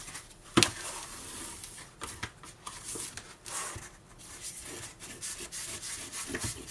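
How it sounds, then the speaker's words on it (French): A bone folder is pressed and drawn along a paper fold while making a scrapbook kaleidoscope album, giving close, dry rubbing strokes with one sharp tap near the start. "je prends mon plioir et je vais passer tout le long"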